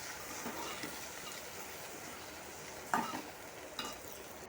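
Okra stir-fry seasoned with salt, turmeric and chili powder is stirred in a pan, giving a steady close sizzle broken by two sharp scraping stirs near the end.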